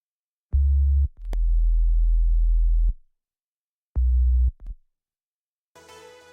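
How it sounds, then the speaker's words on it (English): Deep, smooth pure sine-wave sub-bass tones from Ableton play in short stabs and one sustained note, clean with silence between, followed by a faint brief noise. "and then I just add the fundamental with a pure sine wave."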